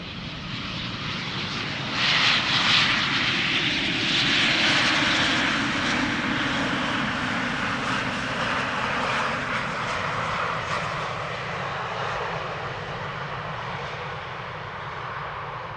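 An Embraer 190 jet airliner, KLM flight from Newcastle, arrives at Amsterdam Schiphol Airport, its engine roar steady and loud throughout, swelling slightly early on and then holding as a broad continuous rush.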